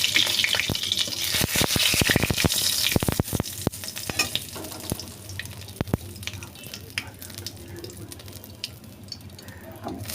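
Whole cumin seeds and a bay leaf sizzle in a small amount of hot oil, with bursts of crackling and spitting that are loudest early on and then settle into a steady, softer fry.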